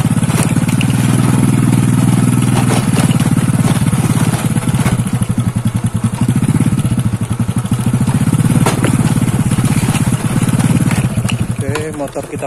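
A motorcycle rides along a lakeside road at Lake Ranau, its engine droning loud and close with a steady, continuous hum that dips slightly now and then.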